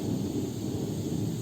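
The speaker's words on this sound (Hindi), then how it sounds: "वो है बादल गरज रहे हैं" Deep, continuous rumbling of thunder rolls low and heavy during a rainy evening, filling the whole moment without any speech.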